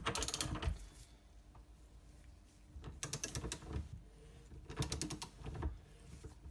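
Bursts of clicking, ratcheting mechanical noise as a bearing is pressed into place with a Freetec bearing puller, arriving in three short clusters separated by quieter pauses, close and moderately loud with no voices.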